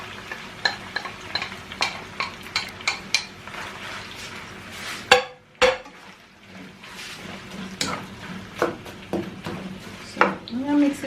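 A spoon scrapes and clinks around a pot of stewing dumplings and tomato, tapping rhythmically against the sides over a soft sizzle, with a brief lid clatter midway and a voice talking faintly at times.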